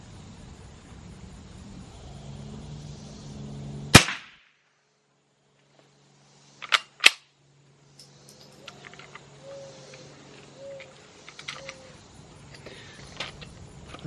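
Two or three .22 rifle shots firing Ruger long range target ammunition outdoors, sharp isolated cracks a few seconds apart over quiet background ambience, with a faint engine hum at first.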